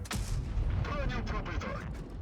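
A tank cannon fires in World of Tanks Blitz: one sharp, loud blast at the start, then a rumbling, crackling tail of battle noise with a dense low-end boom.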